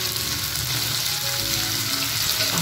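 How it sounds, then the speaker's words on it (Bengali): Chopped onions fry loudly and evenly in hot oil, a dense continuous sizzle close by with faint stirring underneath. "এরপর আমি এগুলোকে তেলে খুব ভালোভাবে ফ্রাই করে নেব"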